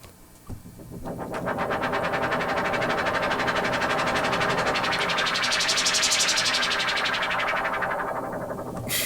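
A dense, buzzing 1971 Minimoog Model D synthesizer drone imitating a helicopter, with rapid rhythmic pulsing like rotor chop, rising and sweeping in brightness before easing off, loud and continuous.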